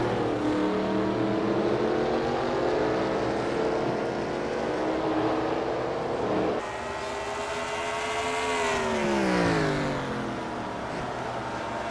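Race car engine in a racing video game revs and climbs through gears, pitch rising in long sweeps with abrupt drops at each shift, loud and continuous with no talk.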